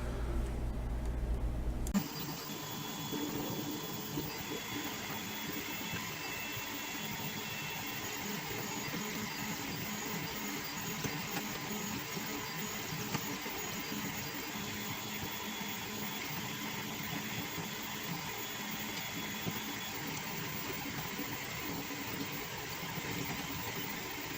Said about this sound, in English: And let's go back to the 3D printer.